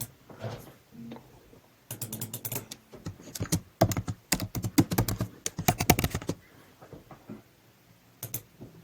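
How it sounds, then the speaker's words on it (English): Someone types text on a computer keyboard while filling in a site inspection report, a close, brisk clatter of key presses in irregular bursts with short pauses between them. "And type text if you want."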